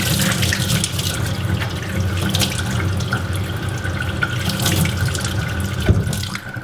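Water runs steadily from a tap over an airless paint sprayer ball being rinsed, a continuous close splashing stream with small clinks near the end.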